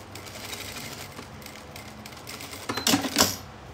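A sewing machine stitches fabric for an Easter basket craft project, running in a close, steady mechanical whir that ends in a slightly louder rattling flurry.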